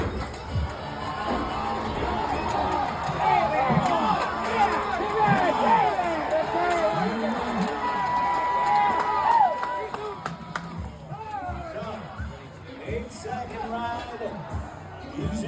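A rodeo crowd at a PRCA event, West Jordan or Hayward, cheers and hollers as the bucking chute gate opens. The noise swells and falls in waves with a dense background of voices, and the crowd stays busy throughout.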